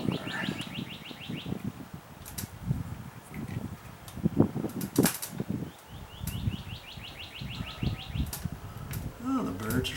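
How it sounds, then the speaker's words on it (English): Birds chirp and sing outdoors in the afternoon, repeated bright calls at moderate distance over rustling and handling noises during outdoor electrical work. "Birds are singing this afternoon."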